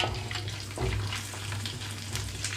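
Spices and ginger pieces frying in oil over a medium flame for a tempering, a continuous close sizzle and crackle with an underlying low hum, no voices.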